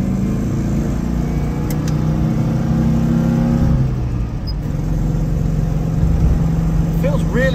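A Citroën Ami 6 with its small M4 engine revs while driving, giving a steady, loud mid-pitched engine drone from inside the car, with the pitch rising and falling as the throttle changes.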